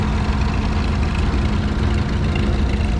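Vintage tractor engine idling at a tractor show, a loud, steady, low throbbing rumble that carries on unchanged throughout, with no talk.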